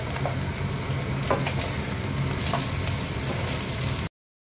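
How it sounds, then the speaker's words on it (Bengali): Vegetables with salt, turmeric and chili powder sizzle steadily in a pan for a navratna curry, with a few soft stirring scrapes over the constant close frying hiss and no voices. "এটা একটুখানি ভাজা করবো।"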